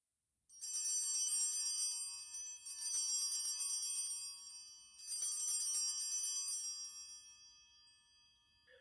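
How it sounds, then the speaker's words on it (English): Altar bells rung during Mass, three bright ringing bursts of jingling, shimmering tones, each sustained about two seconds before the last one decays slowly, clear and alone. "Ring the bells nice and soft, not like this."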